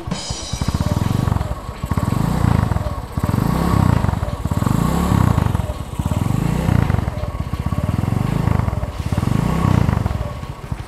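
An idling engine on a replica Honda CB motorcycle chugs loud and close in a steady, lumpy rhythm of repeating low pulses, with a faint clatter running through it the whole time.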